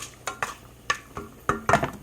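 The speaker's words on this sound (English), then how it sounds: "I'm going to add fenugreek seeds and black peppercorns and fry a little bit." Fenugreek seeds and black peppercorns being fried in a pan, heard as sharp, close clinks and scrapes of a utensil against the pan at irregular intervals, with only a faint sizzle beneath.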